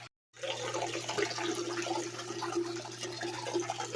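Water runs steadily through a DIY mini gold washplant sluice, a continuous close rushing wash with a low mechanical hum beneath it, starting just after a brief silent moment.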